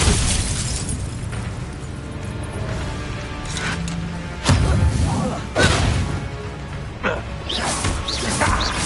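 Bombarda blasting spells going off in Hogwarts Legacy, several loud explosive bursts with whooshes and crashes spread through the stretch over dense game music and effects.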